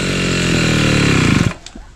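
A homemade grass cutter engine runs loud and close with a buzzing, steady drone, then cuts off abruptly near the end, leaving quieter background.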